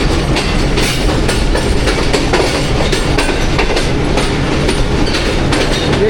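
Train standing at a Pakistani railway station on the Karachi–Lahore line, giving a loud continuous rumble and clatter that runs the whole time, with no voices.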